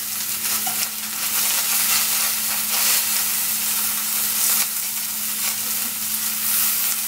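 Mushrooms frying in olive oil in a pan, with a loud, continuous sizzle and hiss, bursts of spattering and stirring scrapes, close and with no voices.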